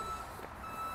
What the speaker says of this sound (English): I don't know why there's a truck up here.